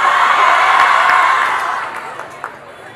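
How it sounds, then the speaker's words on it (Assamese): Audience at an Assamese stand-up comedy show applauding and cheering, a dense wash of clapping and whoops that holds steady then gradually fades, with a few scattered claps trailing off. "সকলোৰ পৰা এটা হাত তালি বিচাৰিছোঁ"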